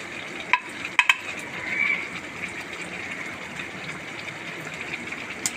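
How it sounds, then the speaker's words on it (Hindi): Chicken karahi sizzling as it is sautéed in a pan, with a low steady frying hiss and a few sharp clinks of a spoon stirring against the metal, close by with no talking. "अब ये देखें, इसको भूनते हुए तकरीबन 5 मिनट हो चुके हैं।"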